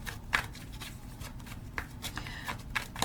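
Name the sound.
shuffling cards for a card reading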